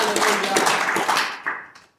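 Applause from a church congregation during a sermon, a dense patter of many hands clapping that fades out toward the end, with some voices mixed in.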